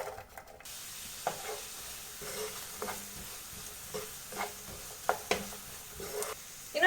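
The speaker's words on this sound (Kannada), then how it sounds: "ನಾನು ಇದೇ ಪ್ಯಾನ್ಗೆ ಒಂದು ಮೀಡಿಯಂ ಸೈಜಿನ ಆನಿಯನ್ ಅನ್ನು ಚಿಕ್ಕದಾಗಿ ಕಟ್ ಮಾಡಿಟ್ಟು ಅದನ್ನು ಹಾಕ್ತಾ ಇದ್ದೇನೆ" Finely chopped medium-sized onion fries in a pan with a soft, steady sizzle, broken by occasional light clicks and scrapes of stirring, quiet and close.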